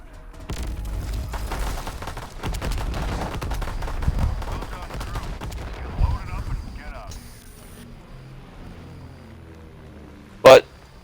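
Bomb blasts and bursts of gunfire rumble through the background, dense and continuous with deep booms and rapid cracks, fading toward a sharp single report near the end, with voices present.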